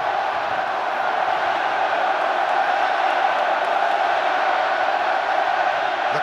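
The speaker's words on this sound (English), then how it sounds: "The crowd in full voice" A stadium crowd at a Wales v England Six Nations rugby match roars steadily in full voice, a dense continuous wall of cheering and chanting heard at a distance.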